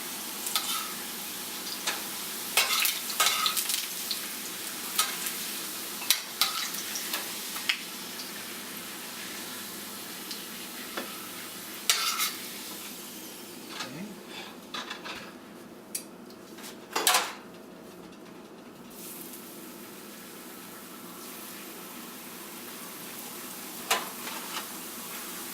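Tortillas fried briefly in oil for huevos rancheros: a faint, thin sizzle under frequent clinks of tongs and utensils against a pan, with scattered taps and scrapes and no voices.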